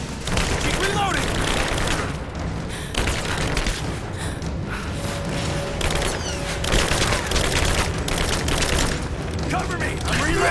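Dense battle gunfire from Rise of the Tomb Raider rattles on without pause, with booming blasts and mechanical clatter layered over steady combat noise and shouted voices throughout.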